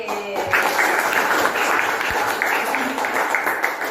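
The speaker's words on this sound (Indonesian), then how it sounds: "Lanjut, ulang lagi. Tepuk 3, tepuk 2, tepuk 1." A class claps together in a rhythmic group pattern during a positive-discipline classroom session, sets of bunched claps repeating steadily with faint voices mixed underneath.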